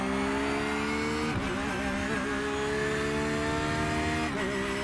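A Porsche GT3R race car engine in iRacing at Hockenheim drones loudly and steadily under acceleration, with brief dips as it shifts gears and climbs again in pitch.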